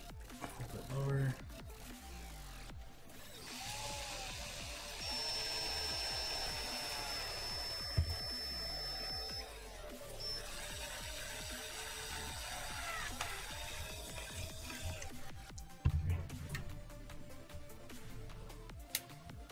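A power drill boring through a plastic game controller, a steady whirring motor running for several seconds at close range, with someone talking briefly before and after.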